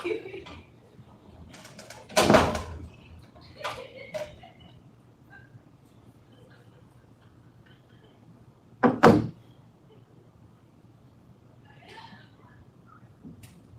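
A door closes loudly in a room during a public board meeting, a sharp thud with a clatter, followed about six seconds later by a second strong bang, with faint background murmur and small knocks in between.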